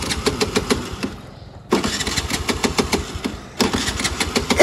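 A vehicle engine that keeps stalling is cranked and started, giving close, loud bursts of rhythmic engine chugging with two brief drops to near quiet before it catches again.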